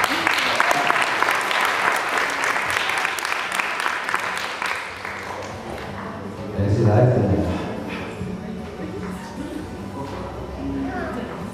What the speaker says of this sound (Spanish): Le pido los aplausos para hacer la pista a Jimena Alonso